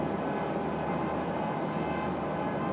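A JetBlue airliner at Raleigh-Durham airport gives off a steady, distant roar that holds at an even level throughout, with no voices heard.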